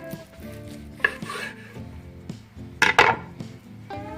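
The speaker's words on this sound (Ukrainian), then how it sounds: "Зараз будемо розрізати сальце." Knife slicing through salo (pork fat) on a cutting board, a few sharp cuts and knocks, the loudest pair near the end, over faint kitchen background.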